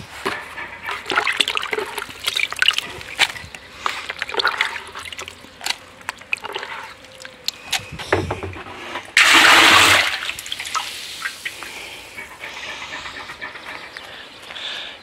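Water is poured into a chicken drinker amid scattered clatter and rustling, with a loud rushing gush of about a second in the middle followed by quieter handling noises.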